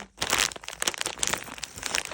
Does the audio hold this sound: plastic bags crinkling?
yes